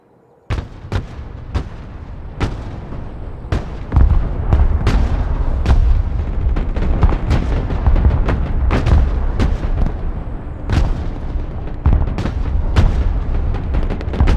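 Heavy artillery direct fire in the video game Broken Arrow, with repeated loud booming blasts at irregular intervals over a constant low rumble of battle for the whole stretch.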